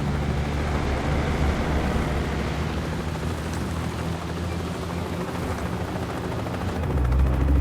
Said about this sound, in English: Bavma's heli is inbound.